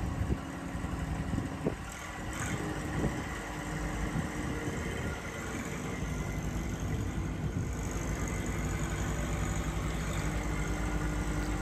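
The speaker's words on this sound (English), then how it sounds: "back I come with an empty grapple on the tractor" A heavy tractor engine idles with a low, steady rumble and vibration, with a few knocks and clunks early on; no voices.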